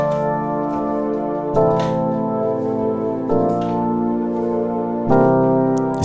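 Piano playing a progression of seventh chords, four sustained voicings struck one after another at an even, unhurried pace, ringing and full with no speech.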